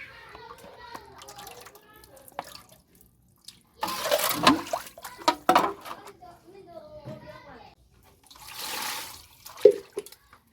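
Tap water splashes in bursts while duck meat is rinsed in a village kitchen, loud gushing stretches alternating with quieter handling, with a person talking throughout.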